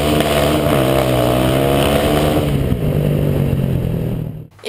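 A Honda Titan motorcycle engine revs hard and steady, loud and close, the tone climbing as it accelerates before cutting off abruptly at the end.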